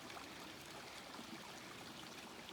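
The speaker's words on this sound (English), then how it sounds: "I've just picked up water at this wonderful stream." A mountain stream runs beside Black Mountain Road, a steady wash of flowing and trickling water heard close and unbroken, with no voices.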